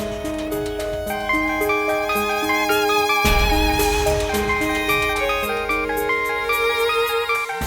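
A melodic electronic ringtone plays continuously, its bright repeating notes ringing out loudly and clearly.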